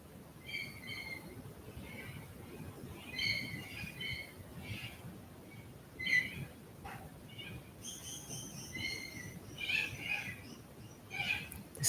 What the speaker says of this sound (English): The sounds of the birds moving in and out of consciousness